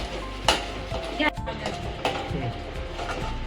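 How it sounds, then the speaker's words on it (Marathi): Masala paste frying in oil in a pan for Marathi chicken rassa, crackling and sizzling with sharp spattering pops and stirring scrapes, close and fairly loud. "आपलं हे वाटप बघा कसं असं चांगलं तेलामध्ये फ्राय होतंय"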